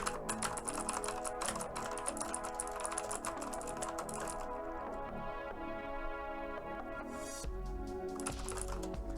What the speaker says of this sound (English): Loud mechanical keyboard.